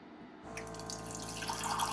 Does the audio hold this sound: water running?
yes